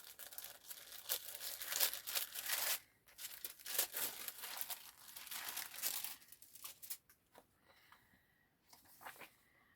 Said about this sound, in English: So I'm just going to open this up. Sorry for the rustling.